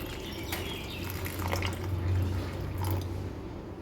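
Hot water poured over fish in a home kitchen to soak it, a soft continuous splashing trickle with faint dripping, close and fairly quiet, running alone without talk.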